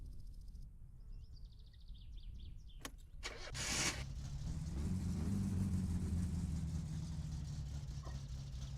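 A car engine starting in the video game My Summer Car, a brief starter crank followed by the engine catching and settling into a steady low idle rumble, preceded by faint whirring and clicks.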